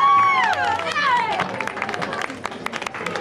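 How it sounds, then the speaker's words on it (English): A small crowd cheers and whoops as a happy couple arrives at a celebration, excited voices rising together near and loud, then fading into scattered chatter and claps. "What are you cheering so hard for?"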